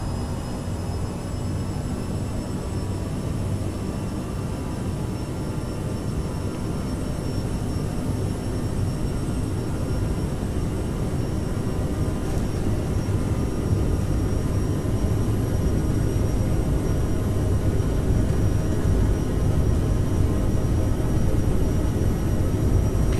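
A CRJ jet airliner on its takeoff roll makes a loud, continuous engine roar with a steady high whine. The noise holds constant and close throughout, and no voices are heard.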